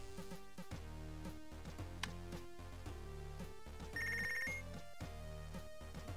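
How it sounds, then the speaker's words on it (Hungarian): A telephone rings in the video game Punch Club, a brief electronic trill set against steady background game music, with no talk over it. "Megint csörög a telefon."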